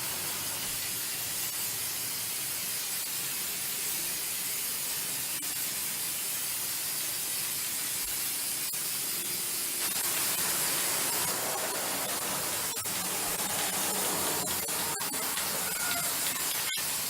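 Aerosol spray paint laying a gold coating over a decoration, a steady broadband hiss running nearly continuously and growing slightly louder partway through, with brief clicks and pauses between passes.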